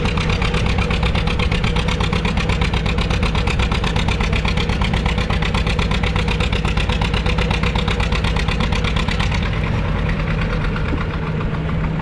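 A John Deere 70 tractor pulls a sled in the 8,000 pound, 3 mph class, its engine knocking in a loud, steady rhythmic chug that holds for the full stretch and eases slightly near the end.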